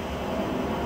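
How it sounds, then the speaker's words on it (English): A jet airliner approaching to land at Dallas-Fort Worth airport produces a steady, loud broadband roar heard from an airport hotel, continuous and unbroken. "You can hear a jet coming in right now."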